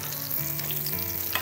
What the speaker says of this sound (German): Ihr seht schon, wie es hier in der Pfanne fängt auch gleich an zu schäumen.